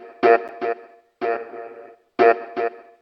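A short vocal chop sample played like percussion through a Lexicon reverb, sounding as three pairs of clipped, tonal vocal stabs, each pair followed by a lingering wash of reverb tail.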